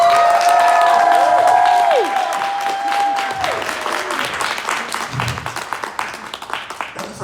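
Applause from an audience at a comedy club, a dense steady patter of many hands that starts full and slowly thins, with a sustained tone and sliding pitches over the first few seconds.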